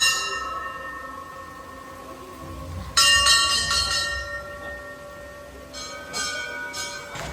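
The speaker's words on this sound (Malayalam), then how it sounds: "അതിൻ്റെ രണ്ടിൻ്റെയും ഫ്രണ്ടിലായിട്ട് ഇങ്ങനെ കുറേ മണികളുണ്ട്" Metal bells at the front of a Hindu temple in Abu Dhabi ring in bright clanging bursts, struck repeatedly in two clusters over a steady ambient hum, close and loud with lingering resonance.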